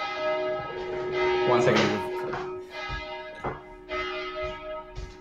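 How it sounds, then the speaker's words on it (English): Church bells ring with a sustained, resonant tone throughout, while a person talks briefly over them in the foreground. "I think that's church bell."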